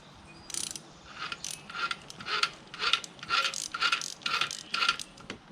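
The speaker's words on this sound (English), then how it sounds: "Oh, and loosen the bolt now." A hand ratchet clicks in about nine quick bursts while loosening the stator bolt on an oil-starved Tao Tao Coolster 110cc Model 3050B youth ATV engine, each burst a short close run of rapid pawl clicks with brief pauses between.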